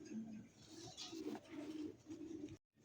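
A single pigeon of a fancy show breed, offered at a pigeon market, cooing in low repeated phrases near the microphone amid background murmur, with a brief silent gap near the end.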